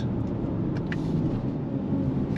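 A 2023 Lexus RX 500h F Sport hybrid SUV accelerates on throttle, producing a steady low engine and road rumble heard from inside the cabin, without talk.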